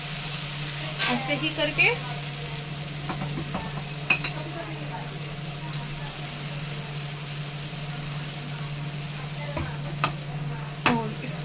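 Moong pancake batter frying in oil in a pan, a continuous close sizzle with occasional spatula clinks and scrapes over a low steady hum; someone speaks briefly.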